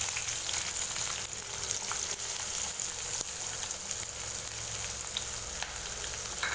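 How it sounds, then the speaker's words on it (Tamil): Sliced large onion frying in hot oil while cooking a green gram curry, a steady soft sizzle and crackle at low level with faint occasional stirring clicks, no voices. "சேர்த்துட்டு வெங்காயத்தை நல்லா கோல்டன் ப்ரௌன் அளவுக்கு நல்லா வதக்கி விட்டுக்கலாம்"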